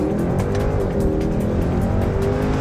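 A 6.2-liter Mercedes-Benz C63 AMG V8 engine roars loudly and steadily at close range, a deep throaty rumble with rising revs throughout.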